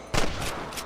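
A single loud gunshot from Red Dead Redemption rings out in an open outdoor camp shootout, with a couple of fainter shots or echoes trailing behind.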